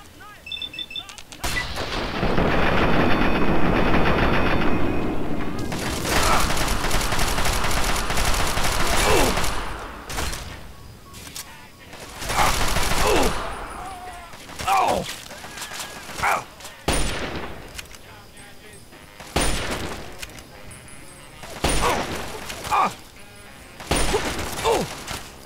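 Gunfire in the Fallout 3 video game, with loud sustained bursts of shots and booming impacts followed by sharper scattered single shots, close and dominant throughout.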